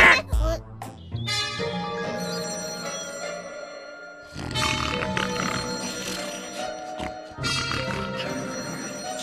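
A telephone bell rings in a cartoon office scene, with bursts of electronic ringing over music and animated voices, the ring pattern repeating in a few clear bursts.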